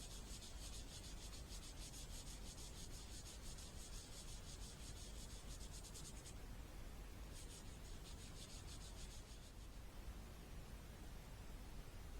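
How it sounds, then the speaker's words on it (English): A narrowboat roof is sanded down by hand beneath the grab rails, giving a steady, close, rasping rub with a rhythmic back-and-forth scratch that pauses briefly and resumes. No one speaks. "I'm having to sand that down in the traditional way."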